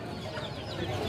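Silkie chickens clucking at a busy chicken market, a steady cluck over dense crowd noise with no clear talk.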